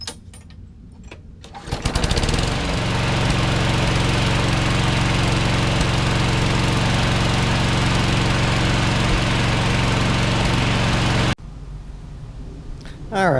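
Craftsman lawn mower engine, just fitted with a new flywheel key, starts after a moment of quiet and runs at a steady, loud, even drone for about nine seconds before cutting off abruptly.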